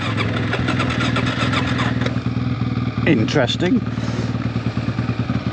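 Suzuki DRZ400E trail motorcycle engine starting after stalling, then idling with a steady low throbbing close by, a brief rev in the middle, while someone talks over it.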